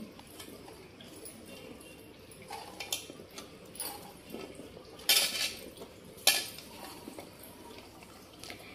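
Cauliflower pickle being mixed by hand in a bowl, giving soft wet stirring and occasional sharp clinks of metal against the dish, fairly close, with faint bird calls in the background and no talking.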